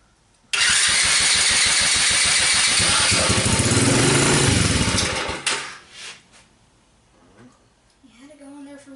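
A Chinese four-wheeler's small engine starts after a carburetor cleaning and runs loud and raspy for about five seconds up close, then sputters and dies away, with a voice briefly heard near the end.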